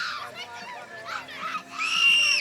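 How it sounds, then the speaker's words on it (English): A person screaming at an outdoor wakeboard tournament, a rising shrill cry at the end following livelier crowd and commentator voices. "It's quite the scream there."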